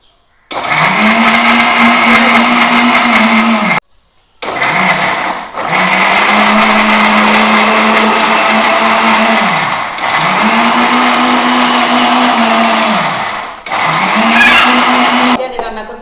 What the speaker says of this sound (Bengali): এখানে কাঁচামরিচ ব্লেন্ডার করলাম, রসুন, আদা,